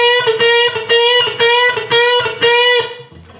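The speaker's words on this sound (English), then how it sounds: "he's going to start this little chicken picking lick" Electric guitar playing a short chicken-picking lick, with five or six crisp, snappy plucked notes in a quick repeating rhythm, close and loud, slightly driven, with nobody talking.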